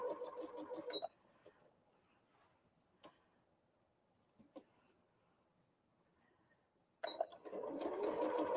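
A sewing machine chain pieces fabric in rapid, steady stitching bursts at the start and end, separated by a quiet stretch with a few isolated clicks and taps, close and clear.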